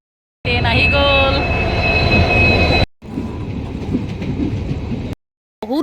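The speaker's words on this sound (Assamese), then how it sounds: "এতিয়া ট্ৰেইন অহালৈকে অপেক্ষা কৰি থাকিম আৰু ট্ৰেইন আহি গ'ল" A train pulls into a station, its wheels squealing with high tonal screeches over a loud rolling rumble, then carriages clatter on past before a brief gap and another squeal at the end.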